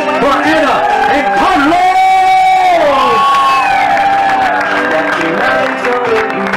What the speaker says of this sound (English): let's give it up for the parents of the groom